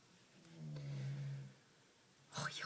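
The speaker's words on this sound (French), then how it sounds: "Oh, il ronfle, c'est un truc de dingue." A person snoring nearby, one long low droning snore that swells and fades, followed by a brief louder breathy rustle, all fairly faint in a quiet room.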